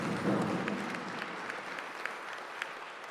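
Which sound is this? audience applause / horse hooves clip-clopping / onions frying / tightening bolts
audience applause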